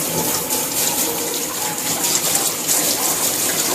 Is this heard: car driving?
no